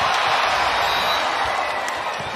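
Dense, loud crowd noise fills a college volleyball arena during a match, a continuous roar of cheering with scattered claps and no clear break.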